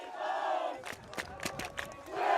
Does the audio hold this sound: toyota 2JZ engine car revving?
no